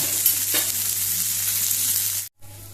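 Goan-style mussels frying in hot oil give a loud, steady, close sizzle that holds evenly, then cuts off abruptly near the end, with no voices.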